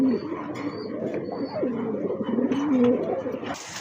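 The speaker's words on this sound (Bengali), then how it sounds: "এক জোড়া অরেঞ্জ কালার ভিতরে বিগ সাইজের চিলা কবুতর" A pair of big orange Chila pigeons coo repeatedly, soft rolling calls rising and falling close by over a low background hum.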